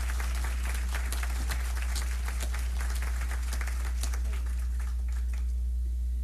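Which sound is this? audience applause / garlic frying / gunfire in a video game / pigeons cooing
audience applause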